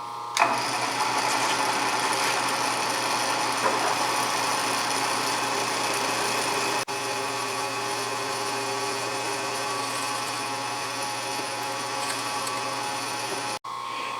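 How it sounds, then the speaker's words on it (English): A drill press running at slow speed drives a 1/2 inch reamer through an oiled hole, giving a steady, continuous mechanical hum and whir at a moderate level from start to finish. "And finally, the 1/2 inch reamer, I had to drop the table way down. Slow speed, slow speed, plenty of oil."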